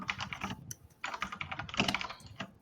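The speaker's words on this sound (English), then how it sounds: "Hearing some typing going on." Quick bursts of keystrokes on a computer keyboard, close and fairly quiet, come in irregular clusters separated by short pauses, with no voices.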